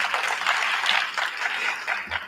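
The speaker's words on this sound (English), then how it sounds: "you will need to give them a very good round of applause" Conference attendees at a public works and infrastructure event applaud together, a close, steady wash of clapping that swells and dips in waves for a couple of seconds.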